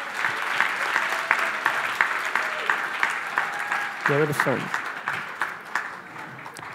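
An audience at a tribute show gives an encouraging round of applause, steady clapping running under a voice that talks over it throughout.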